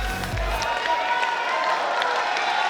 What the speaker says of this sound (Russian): Аплодисменты нашим участникам!